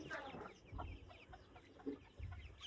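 Month-and-twenty-day-old Colombian Light Brahma chicks, a group of about eighteen to twenty, give soft scattered clucks and peeps close by in a farm pen, with no one talking over them.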